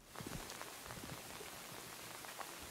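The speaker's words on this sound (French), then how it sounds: "Ah, le son de la pluie est tellement satisfaisant." Rain falling in the horror video game Insight, a soft continuous patter of drops on a surface, faint and steady, with no voices.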